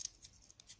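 Scissors snip through white foam paper while cutting out a small eye shape for a Ramadan wall-decoration craft, giving a few quiet, close crisp cuts in a short run with no talk.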